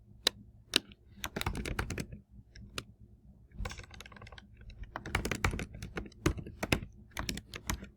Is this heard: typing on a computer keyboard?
yes